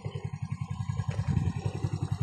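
A motorcycle rides along a road near Barangay Mabato in Calamba, Laguna, its engine putting out a rapid, steady pulsing drone up close, with a brief rise in the middle.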